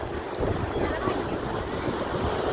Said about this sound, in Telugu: చాలా చల్లటి గాలి వస్తుంది